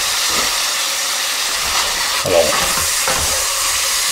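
Beef pieces for boeuf bourguignon browning in a hot pan, giving a steady close sizzle and hiss with a few stirring scrapes, as someone speaks briefly over it.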